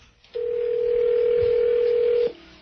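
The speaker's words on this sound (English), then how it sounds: "I'm dialing up the phone" Steady telephone dial tone on a landline during a radio broadcast, a single unbroken hum that starts abruptly, holds for about two seconds and cuts off, with faint background noise around it.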